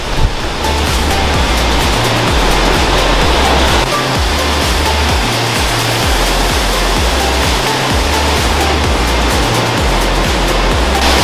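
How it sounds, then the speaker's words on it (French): A Scottish waterfall about fifty metres high roars as a dense, continuous rush of falling water, loud and steady throughout with no voices. "une cascade qui s'appelle la cascade de Message, je crois même. On peut l'entendre."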